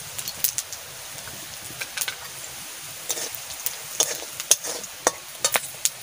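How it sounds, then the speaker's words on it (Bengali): Spices frying in a wok, heard as a steady, close sizzle with scattered crackles and pops, sharper spits rising near the end, with no talking. "এবারে আমি একটু মশলা ভাজা করে নিচ্ছি"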